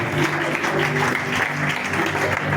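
Church congregation applauding during a French-language sermon, steady dense clapping from many hands throughout, loud and continuous with a faint voice or murmur mixed beneath.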